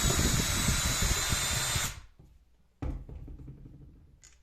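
A power screwdriver whirs loudly for about two seconds while a Phillips screw is removed from a Bosch GWS 850C angle grinder housing, then stops, followed by a brief clack and quieter handling noise.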